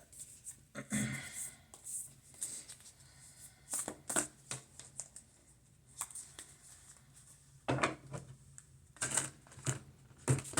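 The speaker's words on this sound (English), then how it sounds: "I did a great job shuffling those cards" Tarot cards are shuffled in repeated soft riffling bursts with pauses between, close and quiet, with no talking.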